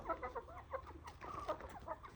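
Chickens cluck repeatedly in a small backyard coop, their short, close calls coming in quick irregular bursts over a low background hum.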